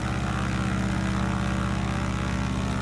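A propeller airplane's engine drones steadily and evenly in Microsoft Flight Simulator, a continuous buzzing hum with no change in pitch and no voices.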